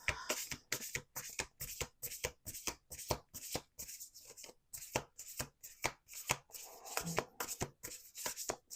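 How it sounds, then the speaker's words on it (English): Cards are riffled again and again in quick rhythmic bursts, each shuffle a crisp fluttering rattle, close up with brief pauses between. "we're going to do one more shuffle."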